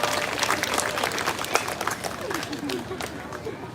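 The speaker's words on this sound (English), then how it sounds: "Give yourselves a round of applause." A Canada Day crowd in Calgary claps in a loose, uneven burst of applause. Some voices and cheers rise in the mix, and the sound eases slightly toward the end.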